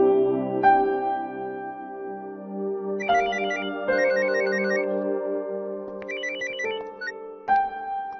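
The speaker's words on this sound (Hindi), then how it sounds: "मैम, कोई भी फोन आए रिंग होने दीजिए।" A telephone rings with a repeating electronic ringtone, bursts of trilling tones over sustained notes, clear and close, heard alone.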